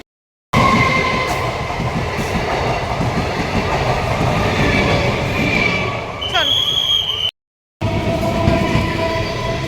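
A passenger train running on rails, heard close and loud as a continuous roar with rolling clatter, a brief high whine partway through and a short cut in the sound.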